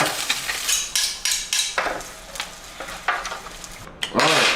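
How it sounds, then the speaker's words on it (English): A steak being sliced on a board, knife strokes falling in a steady rhythm of short scraping cuts with a clatter near the end, close and fairly loud with no talking. "I'm going to slice up the steak"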